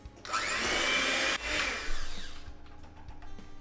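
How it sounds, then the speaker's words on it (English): A small electric whisk mixes eggs in a bowl, its high motor whine starting abruptly, dipping briefly, then rising again before fading into softer whirring and rattling, close by with no talk. "I have this little electric whisk, so it's nice and handy. So just give it a quick mix."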